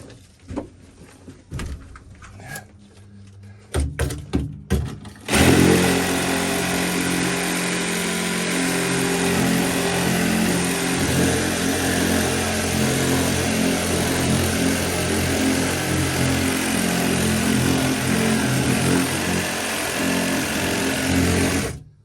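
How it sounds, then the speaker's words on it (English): A Sawzall reciprocating saw fitted with a wire brush attachment roars to life after a few clunks and handling noises, then buzzes loud and continuous with a harsh rattling scrub, close up, for the rest of the stretch. "I have attached a wire brush to my Sawzall"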